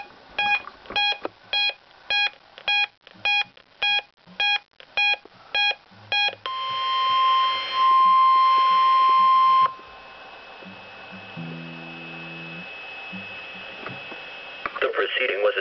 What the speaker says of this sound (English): The proceeding was a test of the National Weather Service warning alarm tone.